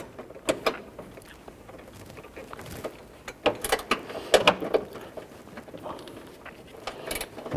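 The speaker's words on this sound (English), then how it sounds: "we're going to go ahead and put our gear wrench on there." A gear wrench ratchets a 10mm bolt on a Honda Pilot, giving close, crisp clicking bursts in uneven rhythm, some quick strings of clicks and some single ones, over quiet background without talking.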